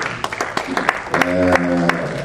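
Applause from an audience as a guest is invited to the podium at a talk on migration, scattered sharp claps building into a fuller round, with a voice briefly humming or speaking underneath.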